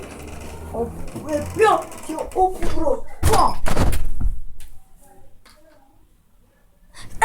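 A door is slammed hard indoors, giving one sharp loud thunk that cuts through chatter, followed by quieter rustling and talk.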